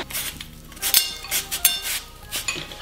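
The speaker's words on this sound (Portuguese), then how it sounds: "E daí também vai usar pepino e cenoura assim raladinho," Cucumber and carrot scraped against a hand grater for sushi, a run of close, uneven rasping strokes with clinks of the grater against a dish, no voices.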